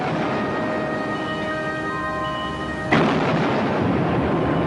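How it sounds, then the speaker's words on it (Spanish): Naval guns of the German auxiliary cruiser Penguin fire on a British merchant ship: one heavy boom breaks through a steady roar and is followed by a long rolling rumble. "Los cañones del Penguin acabaron rápidamente con este navío"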